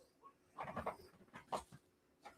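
A dog barks a few times outdoors at a moderate distance, short bursts separated by pauses with faint background ambience.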